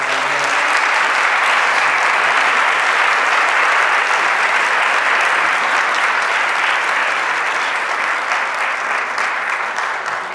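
Sustained audience applause fills a hall at a Spanish-language church talk, a dense, loud wash of clapping that holds steady for about ten seconds before easing slightly at the end.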